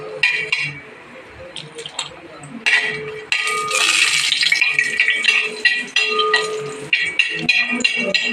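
Cashew nuts are stirred and roasted in a pan until brown, giving steady scraping and clinking with a light sizzle that swells louder midway and carries on without pause.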